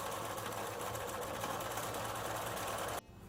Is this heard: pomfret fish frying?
no